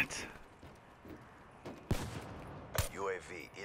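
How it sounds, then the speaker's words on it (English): MR6 pistol fire in Black Ops 3: two sharp, loud shots about a second apart over a busy game background, followed by a short electronic whooping sound, with a voice briefly heard. "We're both shooting at each other with MR6s."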